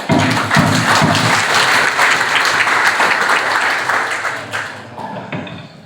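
Audience at the opening ceremony of a religious training program at an Islamic boarding school in Indonesia applauding, loud dense clapping that holds steady then tapers off and fades in the last second or two.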